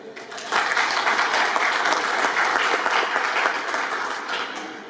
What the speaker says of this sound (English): Please let us clap for MAC.